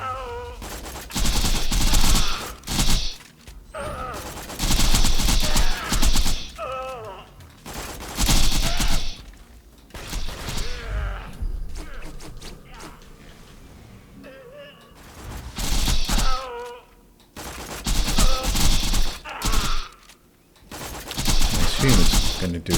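Bursts of rapid gunfire from Zer0 in Borderlands, loud repeated volleys and fusillades separated by short lulls, with a voice talking between some of them.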